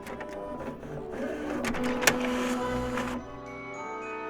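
A printer running in the Roblox video game, a steady mechanical whirring with tonal hums and a brief clack midway, fairly loud and continuous before quieting near the end.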